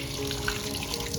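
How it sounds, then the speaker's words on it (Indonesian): A repaired household faucet runs in a steady, continuous stream into a sink, close and even, with no voices. "nah ini akhirnya nyala ya, udah nggak netes-netes lagi"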